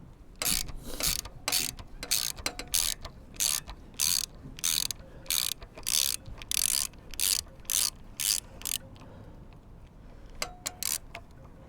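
Ratcheting spanner clicks while unscrewing a bolt as R&G crash bars are fitted to a BSA Goldstar 650 motorcycle. A steady run of crisp, close, evenly spaced clicking bursts sounds over a quiet hum.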